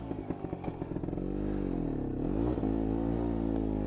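A Vespa scooter fitted with a sidecar sets off, its engine sputtering in uneven pulses before settling into a steady rising and falling revving drone, loud and close throughout.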